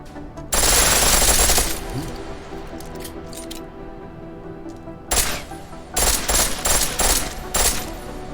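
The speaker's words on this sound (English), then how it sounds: "The pistol in full auto will take down targets fast, but it'll burn through your ammo" Full-auto pistol fire in the video game Deus Ex: Mankind Divided: a loud, rapid burst up front, then several shorter chattering bursts later, with quieter game ambience between them.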